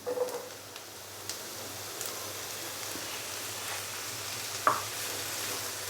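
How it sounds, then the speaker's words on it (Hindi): Potatoes frying with onions in ghee and butter, a steady close sizzle with a few brief clinks and stirring sounds and no talking. "आलू डालने के बाद अच्छे से हम इसको मिक्स करेंगे और आलूओं को मैं 2 से 3 मिनट के लिए फ्राई कर लूँगा"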